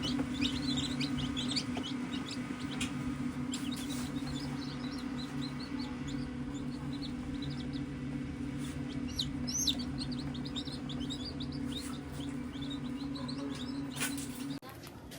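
Newly hatched chicks fresh from an incubator peep with many small high chirps over a steady low hum, with faint talk in the background throughout.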